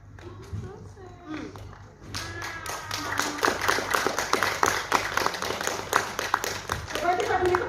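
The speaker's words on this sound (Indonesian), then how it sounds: "Coba kita beri tepuk tangan yang lebih meriah lagi untuk Pak Ustaz Salim yang luar biasa ya." An audience at a cancer survivors' testimonial event claps. The applause starts scattered, then swells into brisk, sustained clapping with a voice speaking over it.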